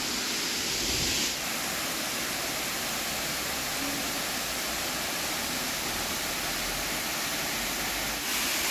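A tall waterfall cascades into a small natural pool, giving a loud, steady, broadband roar that stays unbroken throughout with no voices.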